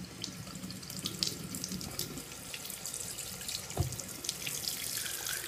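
Hot water runs steadily from a tap over hands into a sink, a quiet continuous splashing stream with a faint thump partway through.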